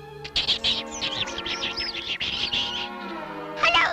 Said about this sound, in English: I have to take care of a baby bird.